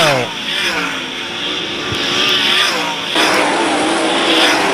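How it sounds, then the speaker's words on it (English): Sprint cars roar around the dirt oval at Attica Raceway Park during an All Star Sprints heat race, engines droning loud and continuous with rising and falling pitch as cars pass, under an announcer's commentary. "Todd Kane off the racetrack in the 78 car as Chris Andrews starts to pull away"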